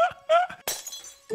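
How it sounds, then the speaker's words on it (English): A glass panel shatters in the Minecraft video game with a sharp crisp breaking burst, set among bursts of voices talking in quick succession. "I accidentally broke one of your glass panels again."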